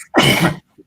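A single loud, close sneeze bursts out sharply and stops abruptly, followed by faint small sounds.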